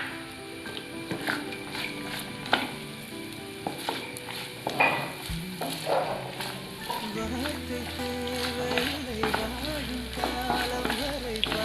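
Chopped coconut frying in ghee on a low flame for broken wheat payasam crackles and sizzles steadily under a speaking voice, with occasional scraping stirs and soft knocks of a utensil against the pan.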